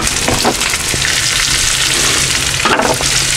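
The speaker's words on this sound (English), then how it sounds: "We're going to saute this a little bit first, and then add the zucchini." Vegetables and spice sauté in a hot pan, sizzling loud and constant up close, with a few scraping stirs and tosses breaking in. No one speaks.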